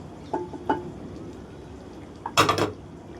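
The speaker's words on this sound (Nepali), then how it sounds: "सब्जीहरु सबै हालेर चाहिँ मजाले मिक्स गर्नुपर्छ" Paneer and vegetables are stirred in a cooking pan, giving two light utensil clinks, then a short, louder burst of scraping clatter against the pan, all quiet and close.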